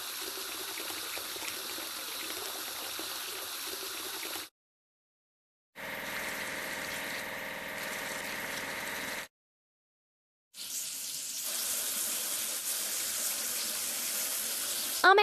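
Running water splashes while a vehicle is washed clean in a kids' vehicle-naming game, steady spraying bursts broken by two short silent gaps.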